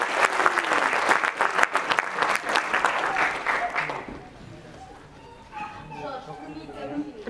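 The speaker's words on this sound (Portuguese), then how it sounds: "Uma salva de palmas para ele." Audience applause at a Portuguese awards ceremony for the International Mother Language Day intercultural prizes, as the president of Espaço T is welcomed; dense clapping fills the first four seconds, then fades as a voice speaks alone.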